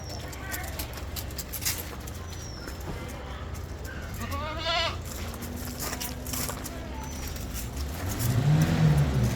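Goats kept for sale on a farm bleat in a couple of short wavering calls, fairly near, over steady background noise, with a louder low rumble near the end.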